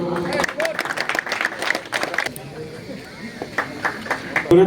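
Applause from a crowd at a Trinamool Congress welcome and felicitation ceremony in Rohanda, Barasat Block 2, heard as bursts of clapping mixed with crowd noise and talk, louder at first, then easing before rising again.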